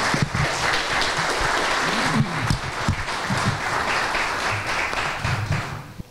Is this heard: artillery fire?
no